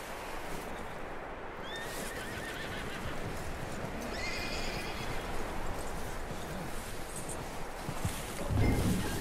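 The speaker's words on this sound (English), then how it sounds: "That looks like a decent horse." A horse whinnies and its hooves clop through a Red Dead Redemption 2 game scene, set against a steady wash of ambient noise. A louder, closer burst comes near the end.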